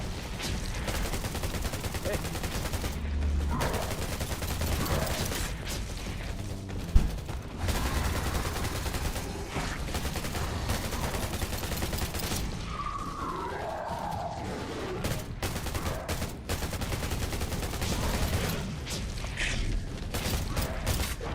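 Bursts of gunfire from the Undawn video game run through a busy mix with sustained rattling shots and occasional heavier reports, while players talk over the action.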